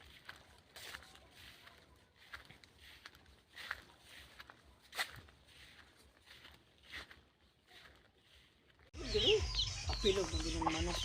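Chickens cluck softly and intermittently nearby in a quiet outdoor setting, with faint steps and movement, before a loud burst of other noise takes over near the end.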